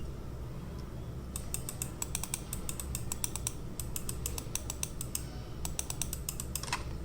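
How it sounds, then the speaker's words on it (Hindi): A Quantum gaming mouse is clicked repeatedly, giving crisp, close clicks in quick bursts and irregular runs over a steady low background hum. "इसका ही क्लिक अच्छा है क्वांटम का।"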